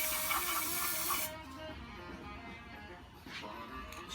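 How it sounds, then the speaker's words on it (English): A can of gold spray paint hisses in one steady broadband burst for just over a second, then cuts off, leaving faint room noise and a few soft movements. "now I'm going to get a little bit of gold and spray paint can."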